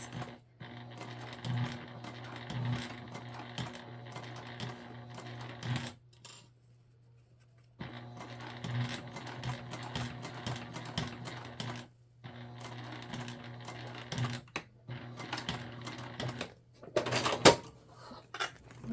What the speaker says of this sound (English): we're just sewing this on with the same seam allowance that we just used